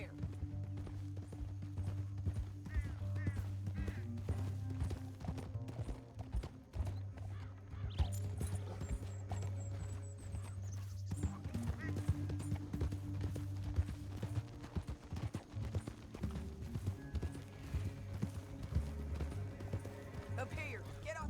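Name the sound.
horses galloping in Red Dead Redemption 2 video game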